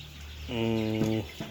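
A single drawn-out broiler chicken call, close and fairly loud, over a faint background hum on a poultry farm where some birds have colds.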